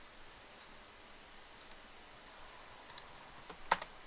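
Ctrl+F5 pressed on a computer keyboard during Java programming, a few faint, quiet key clicks scattered over a few seconds, with the last click the sharpest, in a near-silent room.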